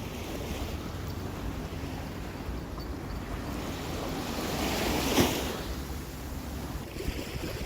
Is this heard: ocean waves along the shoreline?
yes